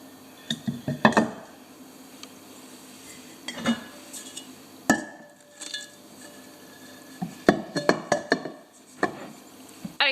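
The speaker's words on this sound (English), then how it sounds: "So I'll put the lids back on." Glass lids set back onto glass terrariums, a run of light clinks and taps in short clusters with quiet gaps between, close and crisp.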